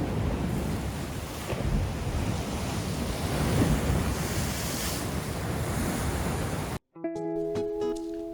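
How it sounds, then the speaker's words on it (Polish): Ocean surf roars continuously on a wild Dominican Republic beach, gusty wind buffeting the microphone, waves surging and breaking, then the sound abruptly cuts to a brief electronic tone. "kąpać się tutaj to tak fala daje równo"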